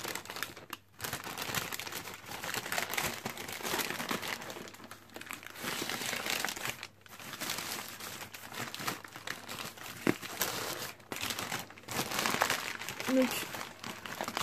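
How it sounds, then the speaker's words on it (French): A newspaper envelope and bubble wrap are unwrapped close by, with crinkling and crumpling rustles and brief pauses, while a person speaks French now and then. "une enveloppe de papier journal, là du papier bulle."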